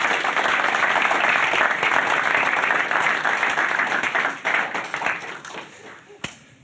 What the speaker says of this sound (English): Huge round of applause for David Lipper, please.